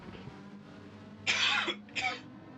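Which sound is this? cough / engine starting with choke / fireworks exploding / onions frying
cough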